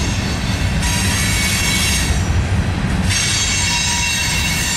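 A Norfolk Southern freight train rolls east past Alliance, loud and close, with a continuous rumble of wheels on rail and high metallic wheel squeal rising and falling throughout.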